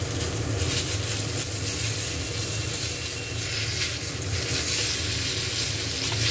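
Slices of eggplant deep frying in a pan of hot oil give a steady, dense sizzle that holds close and even the whole time, with no voices over it.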